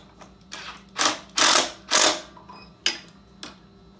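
A chain being tightened on a Monster Moto 80 minibike, a series of several ratcheting, grinding mechanical bursts, some long and loud, others short clicks, close by with no talk.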